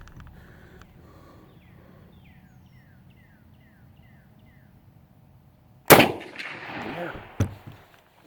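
A single loud, sharp gunshot from an old used Gew 98 rifle cracks outdoors in Kentucky, followed by a short echo and a fainter second impact, after a quiet stretch with birds chirping.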